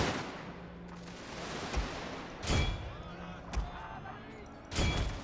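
Soldiers in a strategy video game fire in a few sharp volleys, separate bursts of gunshots spaced a second or two apart over a low battlefield background.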